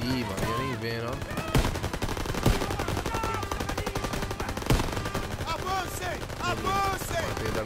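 Rapid bursts of machine gun fire in the World War II video game Call of Duty WWII, loud and continuous with sharp rattling volleys and a few heavier single shots over a busy battle backdrop.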